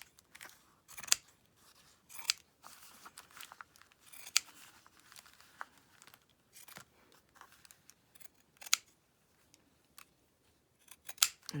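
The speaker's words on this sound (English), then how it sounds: "I'm just going to use these scissors here, and I'm just going to cut across." Scissors snip across paper for a junk journal, with sharp isolated cuts and crisp crinkles at irregular intervals and quiet pauses between them.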